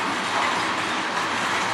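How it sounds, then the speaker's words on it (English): An auto rack freight train passes close in Sarnia, Ontario, a loud, steady roar of rolling cars with a rushing, noisy wash and no voices over it. "This will be the 3rd auto rack train today total."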